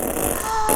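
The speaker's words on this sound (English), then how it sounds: "Are we playing fart tag again?" A single short fart sound, loud and close, lasting under a second with no talking over it.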